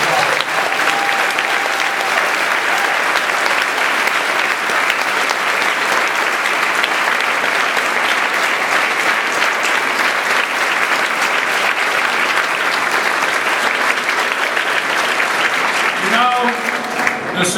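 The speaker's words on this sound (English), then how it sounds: "Let's have a round of applause." Sustained audience applause from a large crowd at a Massachusetts bill signing, loud and steady clapping that lasts throughout before fading slightly at the end.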